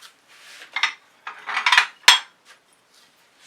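Ceramic paint dishes picked up and handled at an acrylic fluid art workspace, a few short clinks and scraping knocks in separate bursts, close and clear with quiet gaps between.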